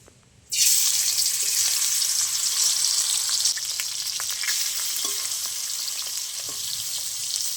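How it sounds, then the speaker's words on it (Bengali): Turmeric- and salt-coated prawns drop into hot mustard oil in a kadai, setting off a sudden loud, bright sizzle that holds steady, with small spatters and stirring taps. "নুন হলুদ মেখে রাখা চিংড়ি মাছগুলো আমি এবার তেলে দিয়ে ভেজে নেবো"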